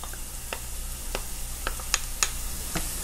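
Garlic sizzles in a pan with onions and plant-based sausage, a steady frying hiss with occasional sharper crackles and stirring clicks, close and moderately loud, no talking.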